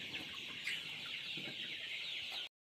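Sonali chickens cluck softly in a short, quiet stretch of farmyard sound, a few low clucks over a steady background hiss that cuts off abruptly.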